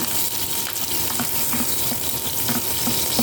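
Garlic stick vegetables are sautéed in a pan, giving a steady close sizzle and frying hiss with light stirring scrapes throughout.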